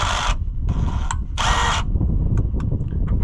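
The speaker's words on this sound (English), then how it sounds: "We're just gonna run the drill through it. Or not drill, impact." Impact driver hammering a bolt home on an old Oliver Super 77 tractor, with three loud bursts of rattling hammering separated by short pauses, followed by faint clicks and low background rumble.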